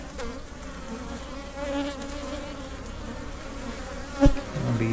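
Honey bees droning steadily during a hive inspection, a dense close buzz with a few louder passes and a brief knock near the end.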